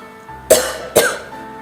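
Two separate, sharp coughs from someone nearby, about half a second apart, against a quiet hum.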